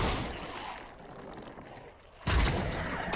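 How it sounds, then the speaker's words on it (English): Zac's Elastic Slingshot ability from League of Legends, a faint rumbling whoosh that fades, then a sudden forceful booming impact near the end. "Elastic slingshot. That sounds like Zachy."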